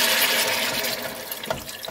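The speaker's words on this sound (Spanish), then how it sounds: "le vamos a añadir 600 mililitros de agua" Water is poured steadily into a pot of sautéed carrot, potato and onion for carrot soup, a continuous hissing splash that tapers off with a small splash near the end.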